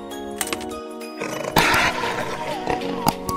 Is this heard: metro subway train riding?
no